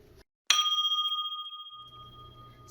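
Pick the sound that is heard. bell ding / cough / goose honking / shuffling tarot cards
bell ding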